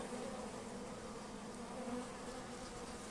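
Honey bees buzz steadily and densely around a hive, a continuous close drone that holds without pause and with no voices over it.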